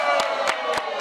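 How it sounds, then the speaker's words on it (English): An audience at a hidden-camera TV show claps in a few sharp, evenly spaced bursts over a low crowd murmur, close and moderately loud. "why are you clapping?"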